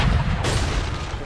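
A single cannon shot in Assassin's Creed III lands as a heavy, close boom with a sharp crack partway through, then rumbles and fades away.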